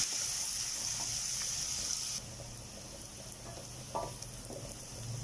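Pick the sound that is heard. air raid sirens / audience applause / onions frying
onions frying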